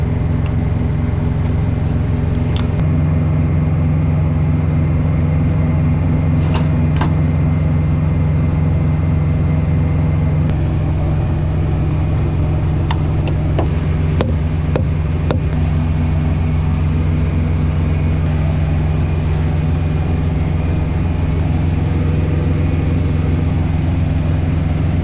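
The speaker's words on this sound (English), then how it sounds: "Taking off from the truck stop right now." A semi truck carrying a light load pulls away from a truck stop. The cab interior is filled with a loud, steady diesel engine drone whose pitch shifts slightly as the truck moves off, and a few faint clicks and rattles sound above it.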